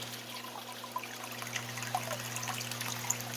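An Aquatop Forza 25-40 hang-on-back aquarium filter starting up after priming, water trickling and splashing steadily with small bright drips, alongside a constant low electrical hum close by.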